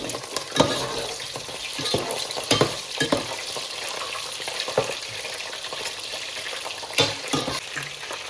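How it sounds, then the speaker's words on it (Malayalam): Coated chicken pieces fry in hot oil, giving a steady close sizzle with intermittent scraping stir strokes and a few louder crackles. "ചിക്കൻ ഇട്ടിട്ട് ഫ്രൈ ചെയ്തെടുക്കാം"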